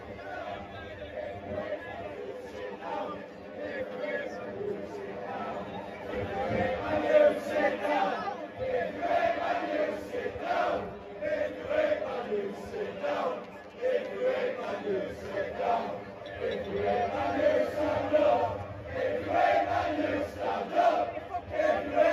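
Leeds United fans celebrate a league title as a dense, excited crowd of chatter, shouts and cheering rises and falls around the listener throughout.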